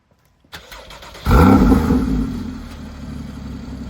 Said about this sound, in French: Tu nous la démarres en échappement fermé?